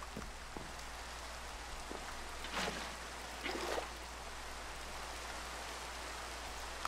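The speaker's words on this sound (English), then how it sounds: "it's still raining" Soft, steady rain hiss in Minecraft SkyFactory at low volume, with a couple of slightly louder splashy bursts partway through.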